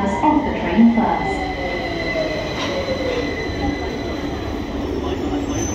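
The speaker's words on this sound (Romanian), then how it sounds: "Please stand behind the yellow line as the train approaches." A London Underground train pulls into a platform, its wheels squealing in long high-pitched whines over a steady rumble of the carriages, loud and close, with some voices briefly audible near the start.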